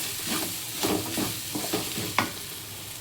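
Spices sizzle steadily in oil while a utensil stirs and scrapes through them in short bursts, with one sharper clack near the end; no voices.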